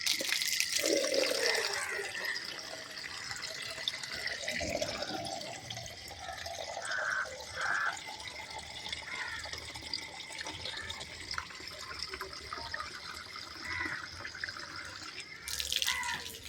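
Water pouring and splashing at a household tap or pipe, a steady broadband rush running throughout with a few brief louder gushes, fairly close and continuous with no talk over it.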